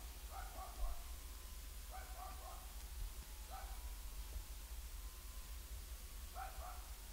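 A small dog barks in short clustered bursts of two or three yips, repeated several times at a moderate distance over a constant low background hum.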